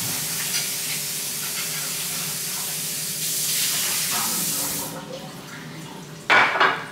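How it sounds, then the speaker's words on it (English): Asparagus spears being washed in cold water in a bowl, with steady splashing and rinsing close by that keeps up for several seconds, then a sharp clatter of kitchenware near the end. "wash them in cold water."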